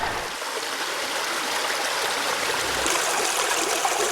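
Water rushing steadily along an open irrigation furrow channel in a town's furrow system, a loud, close, continuous broadband stream wash with no voices.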